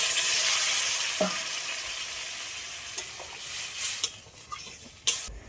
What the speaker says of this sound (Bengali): সবগুলো একসাথে ভালো করে আরেকটু নেড়ে নেবো।